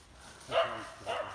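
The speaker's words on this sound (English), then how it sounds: "There's a dog down there as well." A dog, one wearing small bells, gives two short barks from somewhere below, moderately distant, with a brief gap between them over quiet outdoor background.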